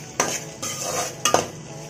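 Finely chopped beans and curry leaves are sautéed in a pan for chicken fried rice, with two sharp spatula scrapes over a soft, low sizzle.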